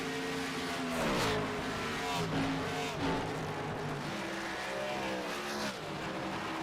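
Sim racing stock cars roar around Homestead-Miami Speedway, a dense, steady engine drone with rising and falling revs as cars pass close by, continuous and loud throughout.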